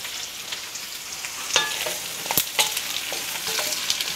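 Tomato pieces frying in a pan for Chinese braised pork, a steady close sizzle broken by several sharp scraping stirs with a utensil, with no talking.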